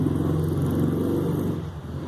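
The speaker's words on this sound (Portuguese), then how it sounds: "Agora tá passando uma moto, olha só, vamos ouvir a moto." A motorcycle passes along a noisy street, its steady engine rumble loud and close for most of the moment before fading away.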